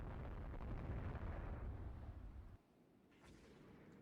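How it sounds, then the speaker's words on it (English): A torpedo strikes a ship in the naval strategy game Rule the Waves 3: a deep, loud rumbling blast that roars for a couple of seconds, cuts off abruptly, then a fainter burst follows. "that was a hell of a torpedo hit right in the butt"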